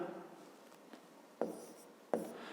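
Handwriting on paper while working a fifth-grade maths exercise, faint scratching strokes with two sharper taps near the end, quiet and close, with no talking.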